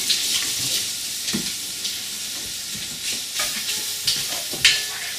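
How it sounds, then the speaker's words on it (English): Bacon sizzles and crackles in a pan as it renders and turns crispy, a loud, steady hiss up close with occasional stirring scrapes and a hint of running water. "And that bacon is almost crispy and rendered, so that should be great."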